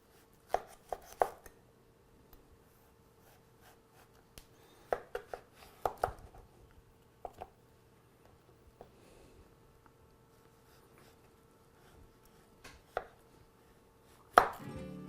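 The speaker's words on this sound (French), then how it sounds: "c'est soit le trancher au couteau" Courgette being sliced with a knife on a cutting board, scattered sharp knocks in small clusters with quiet gaps, a loud final chop near the end.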